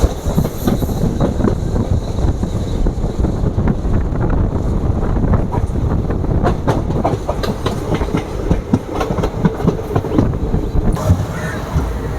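The Mysore–Sengottai special express rumbles along steadily from on board, with rhythmic wheel clatter and wind noise throughout.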